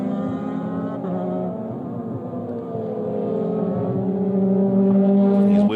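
A Euroformula Open single-seater race car running on track at Estoril, its engine a loud, steady, sustained drone that climbs in pitch toward the end with no talk over it.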